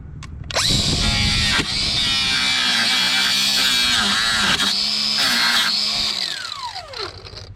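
A grinder cuts into the metal frame of a buggy: a loud, close, high-pitched whine with a gritty edge that dips briefly as the disc bites, then winds down in a falling whir near the end.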